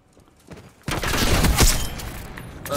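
Sudden loud burst of SMG fire in a video game, a dense continuous rattle lasting about two seconds after a quieter start, close and harsh with some heavier impacts mixed in.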